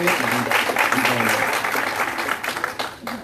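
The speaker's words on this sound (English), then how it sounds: "Can we give our panelists a round of applause?" Sustained audience applause at a university career symposium rises for the panelists, a broad even wash of clapping that tapers slightly near the end, with some indistinct voices mixed in.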